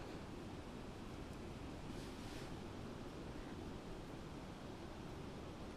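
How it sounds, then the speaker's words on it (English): Strong wind roars steadily beside the water on a day out fishing, a loud, constant rushing buffet that fills the whole stretch with no pauses. "It's so windy today."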